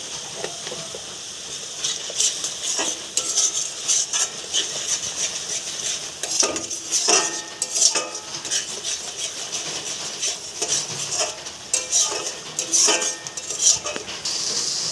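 A spice paste containing mustard is sautéed and stirred in a pan with salt and turmeric, giving a soft frying hiss under repeated scraping and clinking of a spoon against metal.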